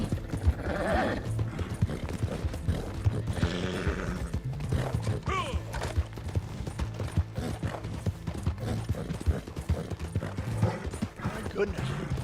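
A video-game horse gallops with steady, fast clip-clop hoofbeats and gives a whinny, with mechanical clicks underneath, while a person talks over the action throughout.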